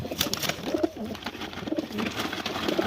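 Teddy pigeons and black pigeons coo in a loft, several soft, throaty, rolling calls repeating close by over a faint background of other bird sounds.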